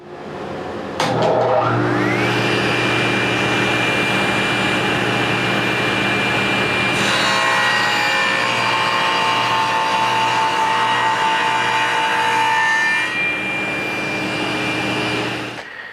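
A table saw fitted with a dado stack spins up and cuts through a wooden workpiece, a loud sustained whine with harmonic tones that holds steady for over ten seconds before winding down near the end.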